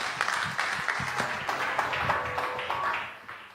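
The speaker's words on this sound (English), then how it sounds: "It is Andrew Johnson, ladies and gentlemen. Give him a big round of applause." Audience applause at the AwakeCon 2017 conference, welcoming speaker Andrew Johnson to the stage: a steady wash of clapping from a seated crowd lasting a few seconds, fairly even with small bursts, with faint tones underneath.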